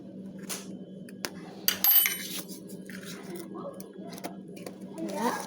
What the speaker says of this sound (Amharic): በደንብ አድርጌ አዋህደዋለሁ።